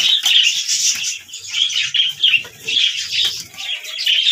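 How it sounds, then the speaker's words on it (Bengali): A flock of pigeons eats in a coop. Repeated bursts of wing flapping and fluttering mix with soft cooing and scratchy chirps in a steady, busy stream close by, with no voices. "খাচ্ছে অনেকগুলো কবুতর।"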